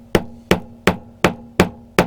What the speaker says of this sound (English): just try and bang that back into place